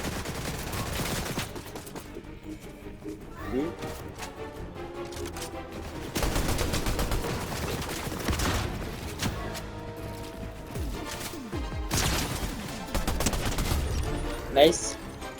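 A new weapon fires in a video game, with sustained bursts of automatic gunfire and mechanical clatter running almost nonstop, loud and close, mixed with game sound effects.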